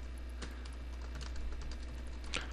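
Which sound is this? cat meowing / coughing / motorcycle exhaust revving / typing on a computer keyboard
typing on a computer keyboard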